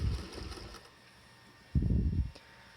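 Sewing machine stitching bias tape for a fabric face mask, heard as two short close runs of low mechanical whirring with a quiet pause between them.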